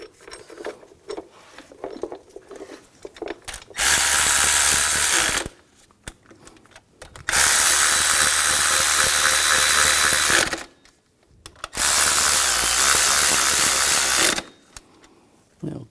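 A power ratchet tightens bolts on the water pump of a 2004-2009 Audi A4 during a timing belt job, running in three long, loud, close whirring bursts separated by short pauses, with no talking.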